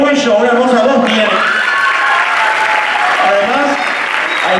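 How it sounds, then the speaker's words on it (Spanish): An audience at a choreographed dance show applauds invited singers, with steady, loud clapping and some cheering, while someone speaks over it through a microphone. "Un fuerte aplauso también para nuestros artistas invitados"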